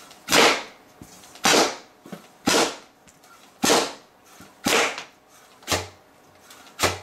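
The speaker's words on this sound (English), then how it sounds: "here's just a quick firing test of me and one of the new bows." A homemade Aabow repeating bow dry fires at its highest string tension, giving seven sharp, whip-like snaps at a steady rhythm about one per second, each loud and close with a short decay and a faint mechanical rustle between shots.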